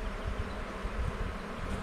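Honey bees buzz in a dense, close swarm while nucs are installed into a hive, a continuous droning hum that wavers slightly in loudness with no voices.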